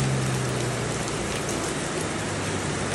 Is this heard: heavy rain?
yes